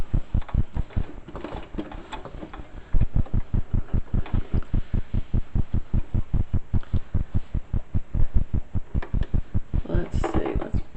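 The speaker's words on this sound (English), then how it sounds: "So we're going to sew this." A home sewing machine stitches stretch fabric for ladies' panties, giving a fast, steady, even thumping of needle strokes that speeds up partway through. It is close and continuous, with faint talk at moments.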